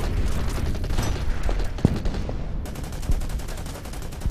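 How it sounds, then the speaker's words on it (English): Gunfire in the wargame Order of Battle, a World War II Pacific battle on Saipan with US Marines: a rapid series of sharp shots and bursts, with one louder bang near the middle and nobody talking. "Start firing on this one instead"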